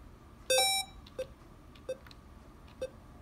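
An electronic video game plays a bright, tonal beep with a rising chirp, followed by three shorter, quieter blips at roughly even intervals over a faint background hum.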